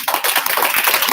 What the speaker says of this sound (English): Can I have a whole applause?